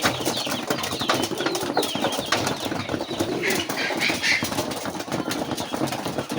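At a pigeon farm, a flock of pigeons feed and flap their wings amid a dense, busy bed of rustling and fluttering, with a low engine-like hum underneath throughout.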